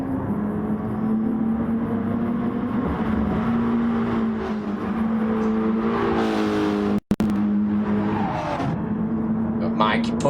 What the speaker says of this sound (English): pushing it in and them screeching tyres